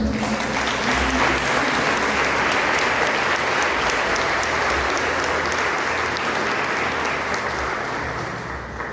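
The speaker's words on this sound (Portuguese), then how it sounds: "Dá um aplauso para o Senhor." A church congregation applauds during a communion service, dense steady clapping from many hands filling the room throughout, tapering off slightly near the end, with no speech over it.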